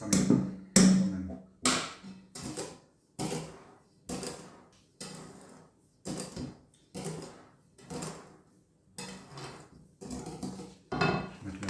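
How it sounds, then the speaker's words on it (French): A whisk beats a cheese mixture in a bowl for an Alsatian cheese tart, about a dozen sharp, evenly spaced strokes that ring against the bowl, close and clear with no talking. "Avec le fouet, ça sera mieux quand même."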